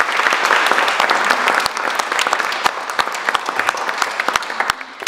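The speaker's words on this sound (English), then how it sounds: "Let's give them a big round of applause." A big round of applause from the audience at a seniors' fair panel in Valemount, BC: dense, steady clapping from many hands that carries on for several seconds without talk.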